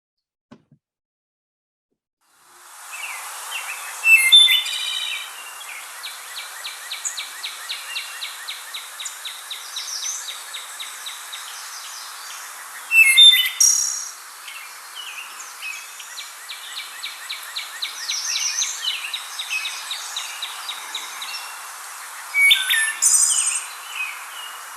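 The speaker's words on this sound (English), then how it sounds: "So bird song." Woodland birds sing in a northern summer forest, with repeated trilling phrases and chirps over a steady wash of distant song, plus a few brighter, louder calls standing out at intervals.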